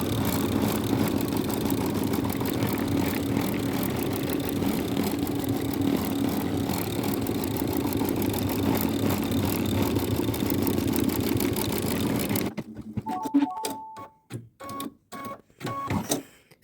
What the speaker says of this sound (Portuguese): Vou colocar meu bastidor aí na bordadeira e vamos costurar.